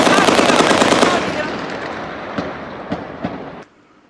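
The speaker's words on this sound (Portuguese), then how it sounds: "Cerca de 25 criminosos trocaram tiros com a polícia por mais de uma hora." Rapid gunfire from a shootout between about 25 criminals and police, a dense loud rattle of shots at first, thinning into scattered distant bangs before cutting off.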